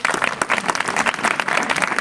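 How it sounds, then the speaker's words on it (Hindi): A crowd applauds with loud, dense clapping that continues steadily for the whole moment, with no voices over it. "जोरदार तालियां।"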